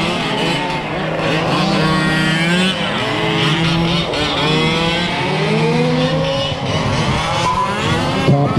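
A 1/5 scale RC race car engine revs steadily through an open-class race at Wagner Park, a loud continuous buzzing whine rising and falling as the car drives the track, with other engines around it.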